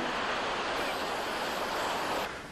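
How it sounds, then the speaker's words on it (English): Rough sea surf breaks on a beach where stranded whales await rescue, a dense, continuous roar of crashing waves that holds steady and eases slightly at the end. "But at this point the sea is too rough"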